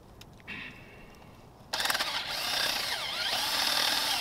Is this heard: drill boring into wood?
yes